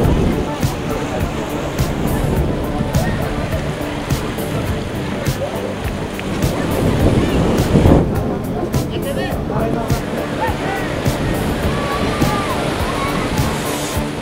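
Surf washing onto the calm white-sand shore of Playa La Mina in Paracas National Reserve, a steady, broad wash of waves that swells briefly near the middle, with faint background voices of beachgoers.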